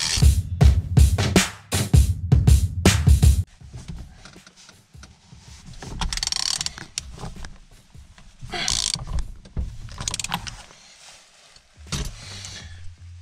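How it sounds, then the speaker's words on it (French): Ratchet wrench clicking while a Peugeot 205 steering wheel is removed and refitted, rapid loud ratcheting bursts at first, then quieter intermittent clicks and metallic handling sounds with pauses. "on inverse le sens du cliquet"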